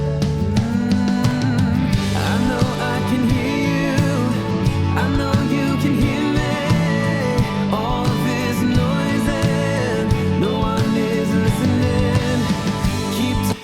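A dense full music mix with heavy low-mid buildup sounds thick and muddy, drums and bass blurring together under busy higher parts, playing continuously and loud throughout.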